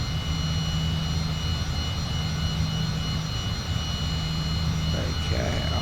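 A Cessna engine idles at around 20% power in Flight Simulator 2020, a steady, even drone with a humming tonal buzz that holds unbroken and close for the whole stretch, with no voices over it.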